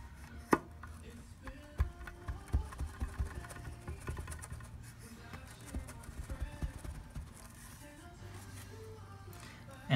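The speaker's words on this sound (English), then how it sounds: "Probably took me 5 minutes to tap and massage the can to get it out." Metal can of wax being tapped to loosen a chunk from inside: a series of light, irregular knocks and taps at close range, fairly quiet, with scattered pauses between clusters of hits.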